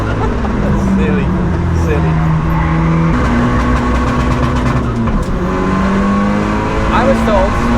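A Seat Leon Cupra's engine roars loud and close on the Nürburgring, its pitch climbing and dropping through shifts. A voice is partly buried under the constant engine noise.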